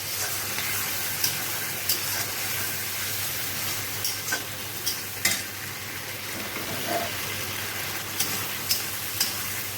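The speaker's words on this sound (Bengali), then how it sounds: "এখন এর মধ্যে দেব হচ্ছে সয়া সস তাহলে মোটামুটি সব দেওয়া হয়ে গেল এখন এটাকে একটুখানি নাড়াচাড়া করবো" Chicken manchurian with soy sauce being stirred in a frying pan, a steady moderate sizzle with intermittent light scrapes and taps of a spatula against the pan, no voices.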